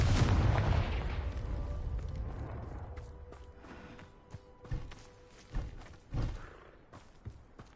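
A Confringo fire spell from the Hogwarts Legacy video game blasts with a loud, booming explosion that rumbles and fades over several seconds, followed by a few sharper, quieter pops and thuds.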